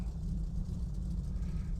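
A piston aircraft engine idles with a steady low drone and rumble before shutdown in Microsoft Flight Simulator X, a constant even hum with no talk over it.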